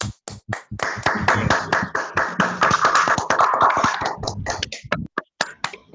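Applause from an online audience with several microphones open, a mix of overlapping hand claps from different participants, building into dense clapping in the middle and thinning to scattered single claps at the end.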